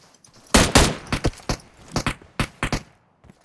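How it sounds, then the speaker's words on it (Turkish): Gunfire in the mobile game PUBG Mobile: a close, loud burst of shots followed by irregular single and paired reports spread over a few seconds, with short quiet gaps between them. "Kim sıkıyor bana?"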